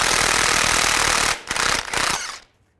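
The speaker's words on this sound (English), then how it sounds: "Take a 24mm socket, take this nut off" Lug nut-sized 24mm CV axle nut on a 2002-2009 Chevy Trailblazer front axle being spun off with an impact wrench, a loud sustained rattling burst that breaks briefly, then resumes before stopping abruptly.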